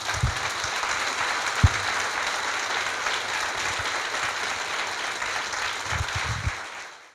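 A crowd claps steadily in a dense, even wash that fills the whole stretch, with a few sharper low thumps mixed in, as the audience at a Maha Shivaratri spiritual gathering in Vijayawada applauds itself.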